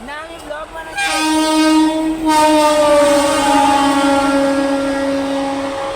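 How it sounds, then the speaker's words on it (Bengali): An intercity express train passes close by, its horn sounding a long, steady blare over the rumble of the moving cars. "এই যে দেখো ইন্টারসিটি এক্সপ্রেস পাস হয়ে গেল"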